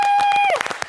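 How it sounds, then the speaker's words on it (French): Studio audience applause on a French daytime talk show, dense clapping heard briefly under a sustained tone that bends downward and fades, leaving the clapping alone near the end. "On applaudit."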